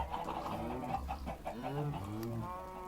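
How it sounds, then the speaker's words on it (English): Blocky video-game chickens on a Minecraft chicken farm cluck in a quiet, overlapping series of short calls, heard at low volume with a faint voice in the background. "And this is the farm, the chicken farm."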